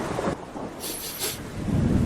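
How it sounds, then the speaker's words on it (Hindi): Heavy rain and a thunderstorm in a cartoon jungle: a steady downpour with loud, rolling thunder swelling in two bursts near the middle, no voices. "बारिश और तूफान इतना तेज था"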